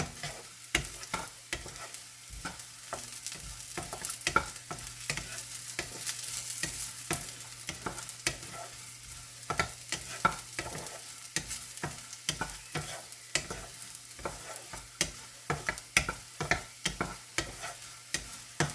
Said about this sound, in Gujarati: એક ડોકલી તેલમાં, 1 ચમચી તેલમાં શેકી દેવાના.